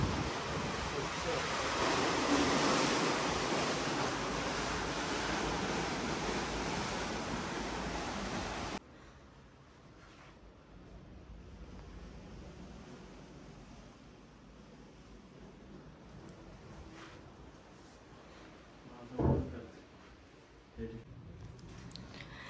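Sea waves wash in a steady, noisy roar at Khavane beach in Konkan, heavy with wind buffeting the microphone at first, then settling into a softer distant surf with a couple of brief knocks and a voice speaking.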